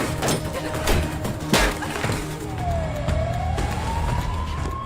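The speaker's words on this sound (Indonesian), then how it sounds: "sirine polisi" A police siren wails over traffic and motor noise, its rising and falling tone coming through clearly in the second half while vehicles rumble beneath.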